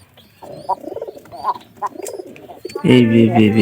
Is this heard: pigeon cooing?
yes